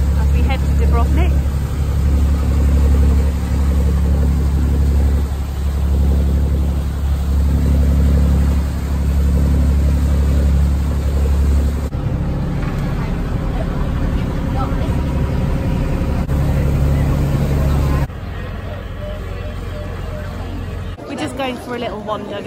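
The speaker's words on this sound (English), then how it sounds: "I'm just looking off the back of the boat as we head to Dubrovnik." A boat engine drones loud and steady off the stern on the crossing to Dubrovnik, Croatia, with wind and water rush and faint background voices throughout.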